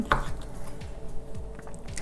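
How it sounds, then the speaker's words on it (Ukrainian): Several soft, evenly spaced knife chops tap against a cutting board, quiet and close, as baked chicken fillet is cut into small cubes. "Нарізаю я його на міленькі кубики"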